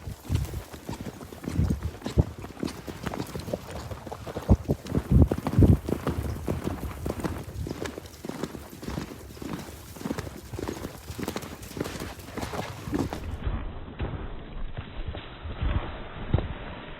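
Hoofbeats of a horse cantering in a virtual horse safari video game, a steady rhythmic clip-clop running throughout, close and fairly loud, with a brief snort or whinny near the middle.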